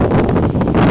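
A brief, loud gust of strong storm wind in Wollongong batters the microphone, a rough, rumbling whoosh that fills the short moment.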